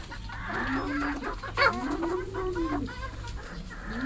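Close-up clucking and cackling from Darag hens about to lay eggs in a farmyard, with a low drawn-out animal call running underneath.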